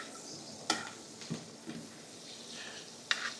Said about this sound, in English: start to brown this butter off a little bit. And just start a little baste it.